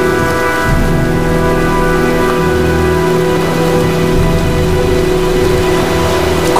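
Rainstorm in the video game Heavy Rain, a constant dense hiss of falling rain with low rumbling underneath and steady game music tones running through it.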